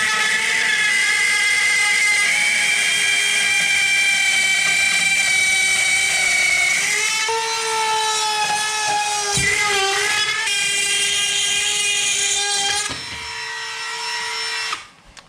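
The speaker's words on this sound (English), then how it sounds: "I got this thing on max RPM" A Dremel router runs at max RPM while cutting, a loud sustained high-pitched whine that dips and wavers in pitch as it bites into the material, then cuts off at the end.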